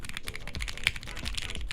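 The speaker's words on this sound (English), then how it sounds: "Let's do the typing test." Typing on a Sunsetter mechanical keyboard: a quick, close run of crisp key clacks in an uneven rhythm, with one sharper strike near the middle.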